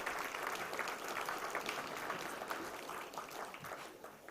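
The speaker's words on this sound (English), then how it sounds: "May I request the audience to welcome them with a big round of applause." An audience at an IEC conference session on artificial intelligence gives a steady round of applause to welcome speakers onto the dais, a sustained crowd clapping that thins slightly toward the end, with no voices over it.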